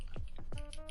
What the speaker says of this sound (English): I like keyboard sounds.